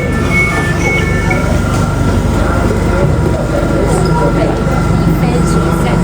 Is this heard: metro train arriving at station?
yes